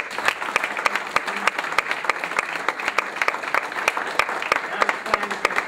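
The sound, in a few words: audience applause at a debate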